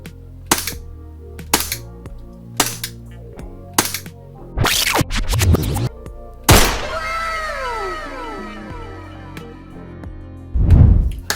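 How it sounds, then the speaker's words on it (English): An airsoft gas blowback replica fitted with a tracer unit fires several sharp, loud shots, first spaced singly and then in a quick burst, followed by a ringing, hissing release of gas and a final heavy thump. "you will see it expelling a little bit of gas because it's a gas blowback"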